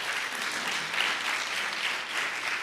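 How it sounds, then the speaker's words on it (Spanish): A church congregation breaks into steady, dense applause that holds at even strength throughout, with no voices on top. "denle un aplauso fuerte a Dios"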